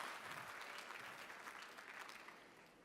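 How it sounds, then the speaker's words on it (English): Applause from an audience at an education summit, a steady dense patter of many hands clapping at a distance that fades slightly toward the end. "Give yourselves a round of applause for standing up."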